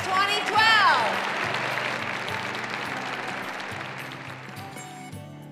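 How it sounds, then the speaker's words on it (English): A large audience at a corporate celebration for women executives claps and cheers loudly, a dense wash of applause with whoops near the start that holds steady and then cuts off near the end. "Let me hear a big cheer."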